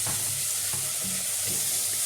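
Peas stirred and frying in a pan for a home-cooked Egyptian-style meal, with a steady close sizzle broken by periodic soft scrapes of stirring. No one speaks.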